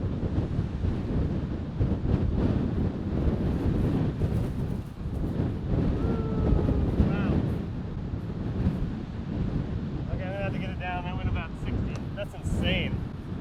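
Strong gusting wind buffets the microphone outdoors with a loud, continuous low rumble, while a voice talks faintly underneath.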